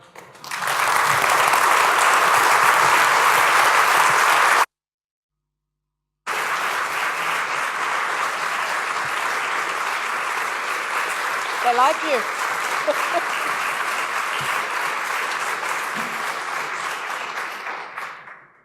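Conference attendees break into loud, sustained applause that cuts out for a moment of silence, then resumes as dense clapping, with a brief spoken remark and faint cheering mixed in.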